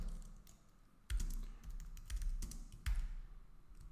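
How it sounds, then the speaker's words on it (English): Fingers type on a computer keyboard in short bursts of close, crisp key taps with a few louder strokes, no one speaking. "And let's give it some description"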